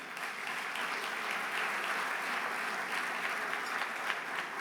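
Sustained audience applause at a mayors' climate protection awards luncheon, steady dense clapping filling the room from start to finish with no talk over it.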